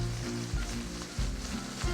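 Butter browning fast while food fries in a pan on the stovetop, a steady close sizzle with a low bubbling rumble that swells and dips a few times, no voices.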